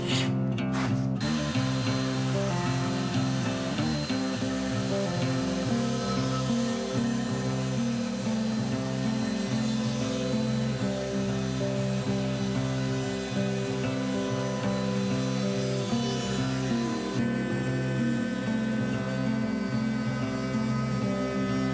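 A router works roundover edge profiles on wooden bed-frame stretchers, giving a steady, fairly quiet high-pitched whine with a motor hum beneath it that runs throughout.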